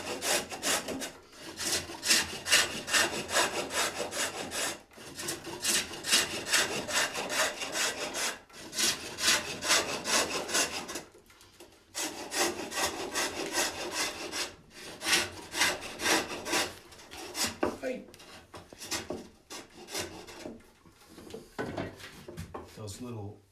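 Wood turned on a pole lathe is cut through with a hand saw in several bursts of steady, close rasping strokes separated by short pauses.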